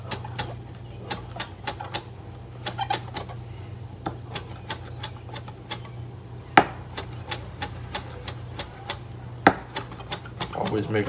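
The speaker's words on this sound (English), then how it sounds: "Also need a little bit of chive with it. Got some chives here. Just gonna cut these up." A knife chops chives on a cutting board in rapid, light, evenly spaced taps, with a couple of sharper knocks, under quiet talk.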